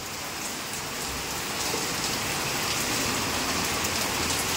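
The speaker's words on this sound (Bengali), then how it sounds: "মুষলধারায় বৃষ্টি হচ্ছে" Heavy monsoon downpour pours steadily and loudly onto surfaces, a dense unbroken hiss of rain close by with no voices.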